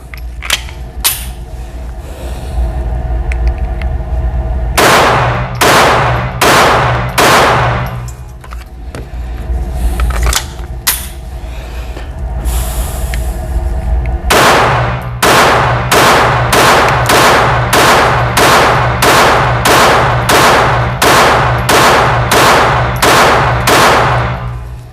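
Taurus TX-22 pistol firing a long string of sharp, loud cracks, a few isolated shots then rapid evenly spaced bursts with brief pauses, close and without talk.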